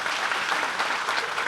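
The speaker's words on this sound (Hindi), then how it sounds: "उनके लिए भी एक कस के ताली लगाएं" Audience applause at a rally of farmers and workers held in a decorated tent in Nagina, a brief even wash of clapping from a crowd, steady and moderately distant.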